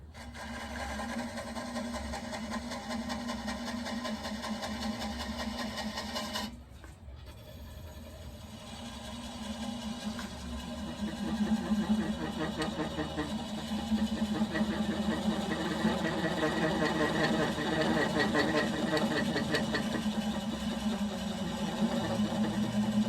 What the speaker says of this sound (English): Switch to my 3/8 swept back bowl gouge and get the speed down to 300.